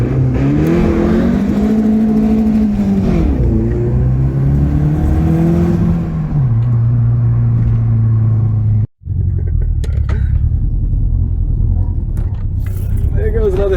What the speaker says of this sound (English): I am going to drive this car.